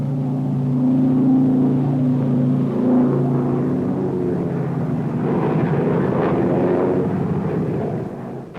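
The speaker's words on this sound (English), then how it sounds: "Our ships are attacked by scores of Jap planes." Engines of WWII Japanese warplanes roar over ships under air attack, a loud, steady drone with rumbling blasts mixed in throughout, no voices.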